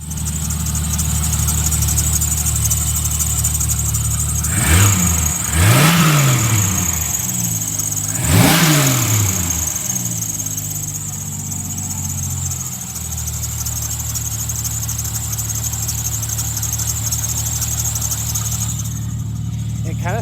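A push-start truck engine runs steadily, with a squealing power steering pump rising and falling in a couple of pronounced sweeps over the constant drone.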